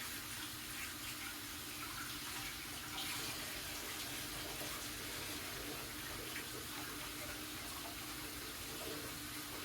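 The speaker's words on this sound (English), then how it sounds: "I'm going to get it soaking in the sink." A kitchen tap runs steadily into a sink to soak a pan used for chicken, a constant broad rushing hiss that stays even throughout, close and unbroken, with no speech.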